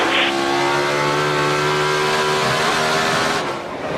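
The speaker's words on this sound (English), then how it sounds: "Here comes Ambrose hard in the throttle." NASCAR Sprint Cup race cars roar past at full throttle as a loud, sustained engine howl fills the whole stretch, then dips slightly near the end.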